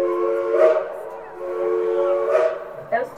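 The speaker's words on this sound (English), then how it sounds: "Those two whistles you just heard tell us that our engineer has received our all clear" Steam train whistle at the Dollywood depot, sounding two sustained blasts with breathy hiss, loud and close, followed by a brief chuff.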